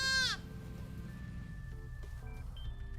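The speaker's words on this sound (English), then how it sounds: "I think that was a screaming goat." A goat lets out one loud, sharp scream right at the start, then the cry cuts off and only low background hum and a few faint electronic tones remain in a game setting.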